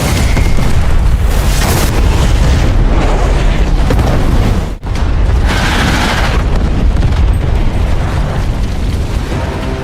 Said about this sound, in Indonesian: Ledakan pertama langsung menyambut mereka ke alam kematian